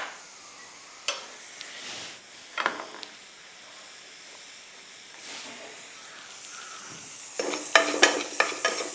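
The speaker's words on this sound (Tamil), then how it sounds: "இது வந்து இதிலே நம்ம லேசாக வறுத்துக்கணும்." About 50 grams of horse gram dry-roasts in a pan, with a faint steady hiss under intermittent stirring scrapes that grow into louder, busier rattling toward the end.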